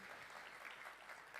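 Audience applause for a tech conference panel, a brief stretch of dense, steady clapping from a crowd, faint and even.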